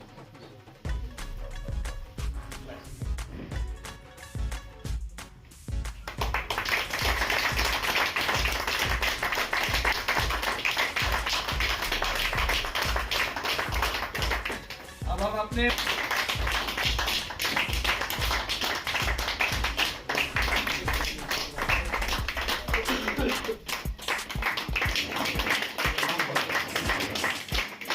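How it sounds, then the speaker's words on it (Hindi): Audience applause at an LIC employees' Constitution Day gathering, as a colleague is honoured with a turban and shawl: dense, sustained clapping rises after a short spoken opening and continues loudly with only a brief dip. "आप जोरदार तालियां"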